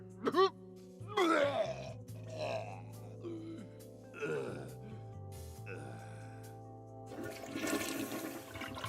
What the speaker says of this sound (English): You hear the toilet flush.